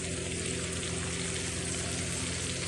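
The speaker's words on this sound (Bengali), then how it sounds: "তেলটা গরম হওয়ার পরে দিয়ে দিলাম কেটে রাখা পটল" Thin slices of pointed gourd (potol) frying in hot oil, a steady, dense sizzle that holds at an even level throughout.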